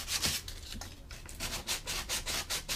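Sandpaper rubbing over a hand-carved wooden spoon, working finer grits, a close, steady series of rhythmic back-and-forth scratchy strokes with no talking.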